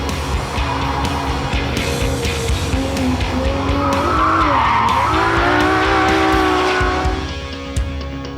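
A 2013 Ferrari LaFerrari hybrid hypercar, driven by a 6.3-liter V12 petrol engine and an electric motor, revs hard as its tires squeal and skid, the engine pitch climbing and sweeping loudly and close before dropping away near the end.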